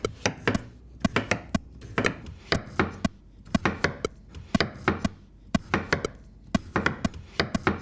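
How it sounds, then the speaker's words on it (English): A knife thinly slices garlic on a cutting board, a close run of crisp, rhythmic taps in quick bursts with short pauses between them. "I'm gonna start thinly slicing the garlic."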